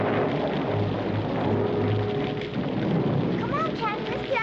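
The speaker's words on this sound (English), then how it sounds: "It's beginning to rain." Steady heavy rain pours over low rolling thunder on a country road, loud and continuous throughout, with a few faint bird chirps near the end.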